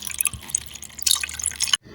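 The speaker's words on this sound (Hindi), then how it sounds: "और यहाँ पर पानी भी भरने लग जाता है।" Water running from a tap fills a basin in a toy-doll bath setting, a bright splashing stream with drips that stops abruptly near the end, then a faint lower rumble remains.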